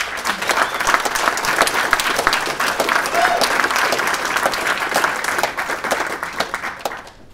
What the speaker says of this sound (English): So give a big shout of applause for Arum and Coffee Meets Bagel.